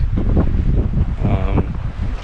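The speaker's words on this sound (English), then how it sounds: "It's extremely windy" Strong Texas Panhandle wind buffets the microphone in a loud, continuous low roar with gusty surges, and a faint voice is briefly audible underneath.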